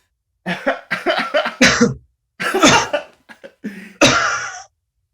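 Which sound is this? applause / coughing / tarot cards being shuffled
coughing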